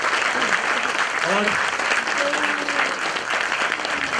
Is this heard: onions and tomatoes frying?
no